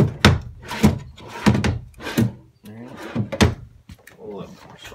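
Storage drawers along the side of a 2013 Sabre motorhome are pulled open and pushed shut several times, giving a rhythmic series of close, solid thunks and slides with a person talking in between.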